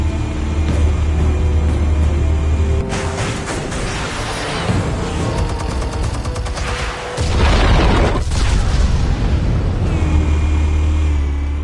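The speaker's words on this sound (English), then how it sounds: "Explosives armed. Fire when ready." Explosives detonate in the Batman Telltale video game, a loud broadband boom and rumbling blast that swells over a steady low engine-like drone, then settles back into the continuous hum.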